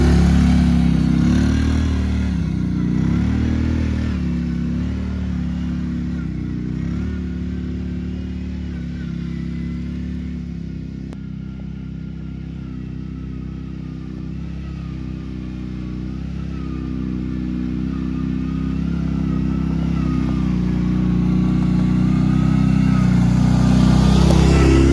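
A Kawasaki Brute Force 650 ATV riding over rocky ground makes a continuous, close engine drone that dips and rises with throttle, with rattling suspension clatter underneath and no talk.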